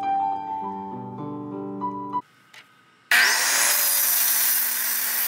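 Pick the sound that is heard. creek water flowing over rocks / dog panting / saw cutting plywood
saw cutting plywood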